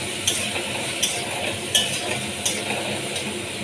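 Masala for a jackfruit curry stir-fried in a pan, a steady close sizzle broken by regular scraping clinks of a spatula against the metal roughly every three-quarters of a second, with no talk.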